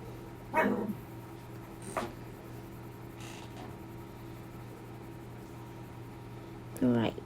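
A dog indoors, unsettled by hearing another dog, gives a few short barks or yips spaced over several seconds against a quiet room hum.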